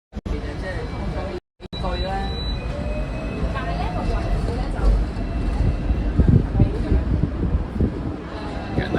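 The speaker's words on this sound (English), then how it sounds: "They got these in London too. They look a little different in London, but they're the trolleys, the double-decker trolleys." A double-decker tram in Hong Kong rolls past on a city street, giving a rising rumble of wheels and faint metallic squeal with wind noise, while a voice talks over it.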